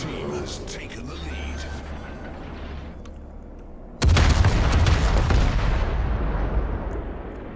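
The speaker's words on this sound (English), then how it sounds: "We are going to return some fire here" Naval guns of a Fiji cruiser fire a heavy broadside in World of Warships, a sudden loud boom midway that rumbles on, after a quieter stretch of engine and sea ambience.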